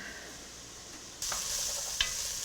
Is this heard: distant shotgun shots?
no